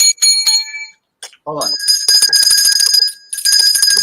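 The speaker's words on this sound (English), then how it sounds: "Need some bell action." A small handbell rings in quick bright bursts, close and loud, pausing briefly while someone speaks, then ringing again steadily.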